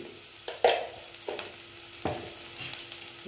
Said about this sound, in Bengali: এবার আমি একটু ভেজে নিচ্ছি মশলাটা।